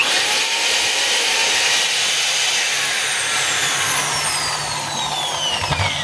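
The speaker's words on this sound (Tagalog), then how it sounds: "1/2 capacity hammer drill ng DeWalt. Ayan. So ito mga kabay, gumagana." A DeWalt DWD024 1/2-inch hammer drill runs continuously, loud and close, with a steady high motor whine that shifts slightly in pitch as it spins.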